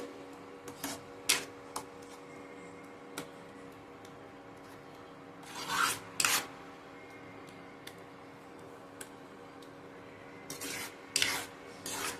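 A spoon scrapes and rubs through a sandesh mixture in a pan over a low flame in short, rasping bursts, separated by quieter stretches and faint ticks, with a low steady hum underneath.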